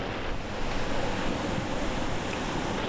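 Ocean waves wash steadily against the shore near Docker Road by LAX, a loud continuous broadband roar mixed with wind buffeting the microphone, with no voices.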